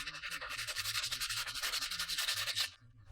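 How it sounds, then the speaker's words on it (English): Cured body filler on a metal part from a 70-year-old train lamp is sanded smooth in a workshop. The rasping, rhythmic strokes are close and steady, and no one speaks. "he sands it smooth to create a perfect base for powder coating"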